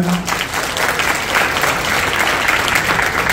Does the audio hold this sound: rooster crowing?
no